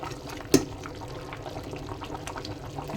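Rice boils in water in a cooking pot for vegetable biryani, giving a soft continuous bubbling and simmering wash with one sharp click near the start, fairly quiet and without talk.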